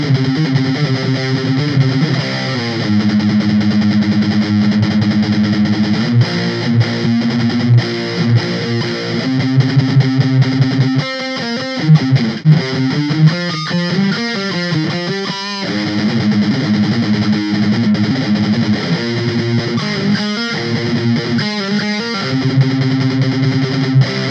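Distorted electric guitar playing the first verse of a song at a slow tempo, a loud, dense, continuous stream of overdriven picked notes and riffs with no talking.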